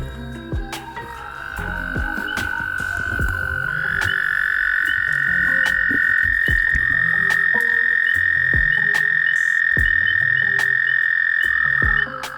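An Eastern gray tree frog gives a loud, close, sustained trilling croak that holds steady for several seconds alone, with scattered clicks and knocks around it and an abrupt stop near the end.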